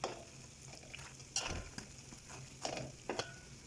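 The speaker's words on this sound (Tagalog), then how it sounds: "Haluin na natin para magyan siya ng asukal." Glutinous rice and sugar being stirred in a pot for bitso-bitso, an Ilonggo fried rice cake, giving a few separate scraping, clacking strokes over a soft background sizzle, close and moderately loud.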